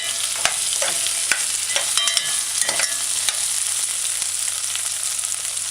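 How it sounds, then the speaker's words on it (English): Sweet potatoes are stir-fried in a pan over a medium flame, giving a loud continuous sizzle broken by repeated scraping clicks of the spatula. "just kind of stir fry it"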